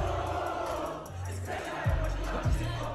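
Concert crowd of fans singing along together, a loud dense mass of voices filling the space, with low booming bass swells underneath and no single voice standing out.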